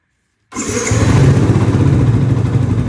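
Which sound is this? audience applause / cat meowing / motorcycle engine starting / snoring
motorcycle engine starting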